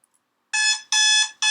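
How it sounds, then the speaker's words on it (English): Loud electronic quiz alarm with harsh buzzing beeps in three pulses, two long and one cut off, ringing out alone after a short silence with no talking. "And that is the alarm"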